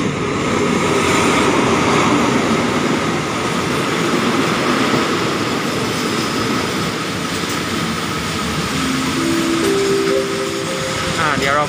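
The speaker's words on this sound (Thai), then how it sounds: "ใครรู้บอกด้วยเนอะรถหัวรถจักรนี้รุ่นอะไรนะครับ" Diesel locomotive number 4223 arrives at Lamae station with a loud, continuous rumble of engine and rolling wheels. Brief tonal whistle-like notes rise near the end.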